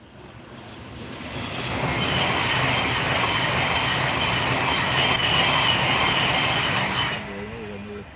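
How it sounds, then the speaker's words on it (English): A Pendolino train passes close by, its roar swelling over about two seconds, holding steady, then fading, with faint rail clatter beneath. "and here comes the Pendolino."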